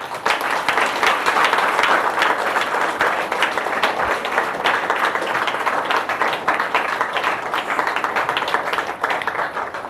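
A large audience claps loudly and continuously throughout, a dense sustained wash of applause at a live Hindi-language gathering.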